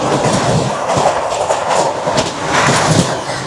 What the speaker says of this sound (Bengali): গুয়াহাটি থেকে 523 কিলোমিটার পথ পাড়ি দিয়ে ট্রেন আমাদের এসে পৌঁছেছে ডালখোলা